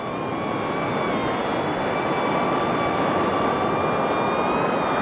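A DJI Neo drone hovers in place, its propellers giving a steady, close, high-pitched whine with sustained tonal harmonics that holds evenly throughout, with no talking.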